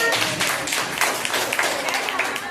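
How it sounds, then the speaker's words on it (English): Audience clapping at a school black-and-white colour day celebration, a dense, steady patter of many hands close by, with some voices mixed in. "Clap பண்ணுங்க."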